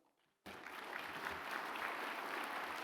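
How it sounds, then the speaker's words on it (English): A gala audience at an innovators' awards evening bursts into applause after a brief hush and keeps up a dense, steady wash of clapping from many hands. "And another round of applause for Trent and all the astronaut scholars"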